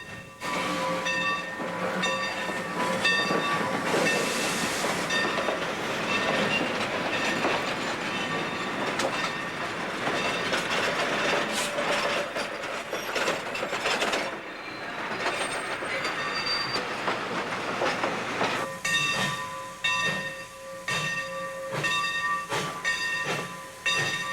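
An HO scale model freight train runs along the layout at a Baton Rouge club, its wheels producing a steady rolling clatter with occasional metallic squeals and hiss, close and continuous throughout.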